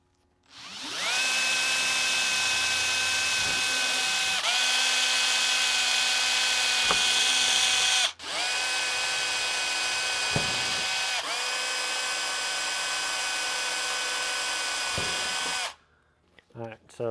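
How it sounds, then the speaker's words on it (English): Power drill boring holes for well nuts on a Nissan 370Z track car during a carbon splitter install, several long steady whirring runs with brief pauses and ratcheting catches, close and loud with no talk. "the inner ones, we need to drill out to the size of the well nuts that go in there"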